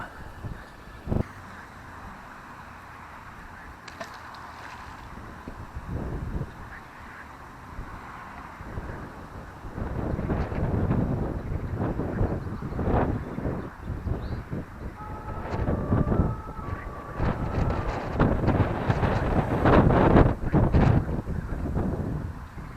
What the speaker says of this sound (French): il y a un poil trop de vent de ce côté-là